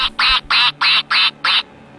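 A voice imitating Donald Duck, six rapid nasal quacks in an even rhythm, loud and close, ending abruptly.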